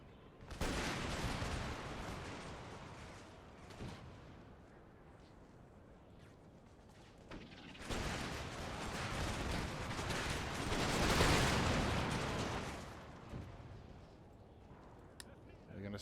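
Musket volleys and artillery fire roll through an Empire Total War battle, a dense sustained roar that swells and fades, with someone talking over parts of it.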